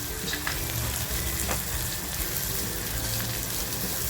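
Green chilies, green beans and cauliflower fry in a hot pan for paneer bhurji, giving a loud, dense, continuous sizzle and crackle up close, with no voices.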